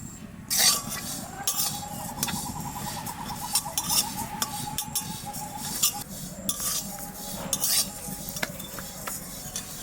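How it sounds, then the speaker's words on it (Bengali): Fennel, cumin and ajwain seeds are dry roasted in a pan and stirred with a metal utensil, making steady scraping, light clinks and faint rattling throughout. "শুকনো খোলায় কটা মশলা বেজে নিই মৌরি জিরে জোয়ান"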